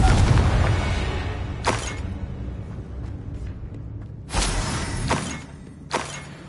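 The Confringo fire-blast spell from Hogwarts Legacy goes off in a few sharp, crackling booms at irregular intervals, each a bright shattering burst that fades into quieter rumbling between hits.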